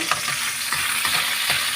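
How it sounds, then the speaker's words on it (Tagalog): Onion sautéing in a pan for chayote adobo, a constant close sizzle broken by four evenly spaced scrapes and taps of a spoon stirring, with no speech. "Ayan po, igigisa muna natin ito."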